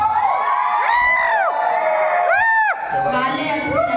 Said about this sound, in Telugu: వాళ్ళే అరుస్తున్నారు